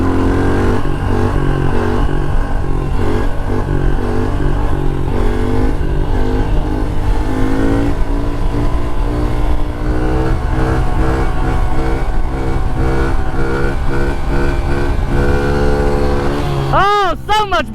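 A modified pit bike engine climbs hard through the gears into fourth, its rising, droning whine loud and close and running continuously, with a brief burst of higher-pitched revving near the end.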